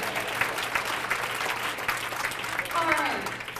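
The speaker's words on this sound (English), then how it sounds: "Well, everybody clap for them." An audience at a school parent engagement event claps for school groups, a steady patter of applause with a voice talking over it partway through.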